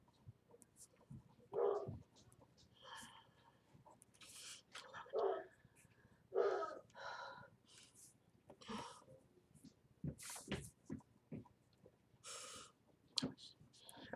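A dog gives several scattered barks and snorts, some sharp and near, amid quiet room noise, with people talking between them during a second-grade writing lesson.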